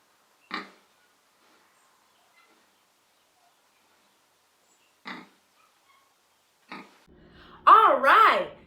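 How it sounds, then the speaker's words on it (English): Pigs give three short, separate oinking grunts spread apart over several seconds, fairly close and clear against near silence, followed by a brief louder voiced sound at the end. "Let's watch some pigs now."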